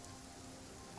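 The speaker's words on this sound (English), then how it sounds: "It's raining." Rain falls in the video game Genshin Impact, a soft, steady hiss of drops with no voices, brief and unchanging.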